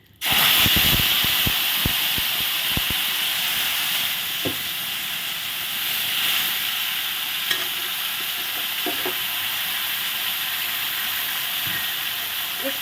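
Whole spices sizzle steadily in hot oil as spicy tempering fries before chili and tomato paste go in, a loud continuous frying hiss with scattered clicks and scrapes of stirring early on, close and alone.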